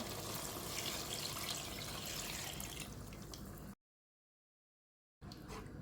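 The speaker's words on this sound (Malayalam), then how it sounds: "അപ്പോൾ ഞാൻ ആ 2-ാം പാലങ്ങോട്ട് ഒഴിച്ചു കൊടുക്കുകയാണ്." Thin second coconut milk poured into a simmering Kerala-style chicken stew makes a steady, close liquid splash for several seconds, then stops briefly and picks up again, with no voices.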